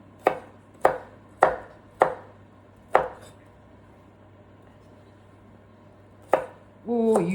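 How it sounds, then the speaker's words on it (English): A knife slicing a roasted capsicum into fine strips on a board for an Italian dressing, five crisp evenly spaced chops, a pause, then one more cut followed by a brief murmur. "I like to cut it in fine strips."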